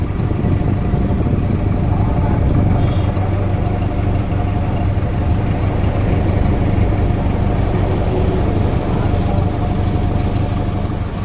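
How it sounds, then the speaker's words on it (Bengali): A Toyota Axio car engine idles loudly and close for the whole stretch, a continuous low rumbling drone with a faint rattle. "ইঞ্জিনের সাউন্ডটা দেখতেছেন"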